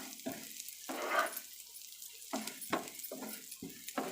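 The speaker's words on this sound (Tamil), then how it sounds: "ஸ்லோ ஃப்ளேமில் வச்சு தான் இந்த அரிசியை நல்லா வறுத்துக்கலாம்." Powdered rice dry-roasting in a pan over a low flame, heard as soft bursts of scraping and light sizzle as it is stirred, several short strokes spread through the moment, fairly quiet with no talking.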